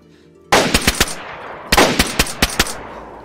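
Gunfire in the survival video game DayZ: a loud first shot, then a quick volley of sharp cracks, a pause, and another burst of several rapid shots, close and punchy with no talk over it.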